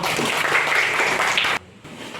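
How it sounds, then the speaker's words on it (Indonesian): A classroom group claps together in a dense burst of applause for about a second and a half, then it cuts off abruptly to a quiet room. "Tepuk tangan dulu semua."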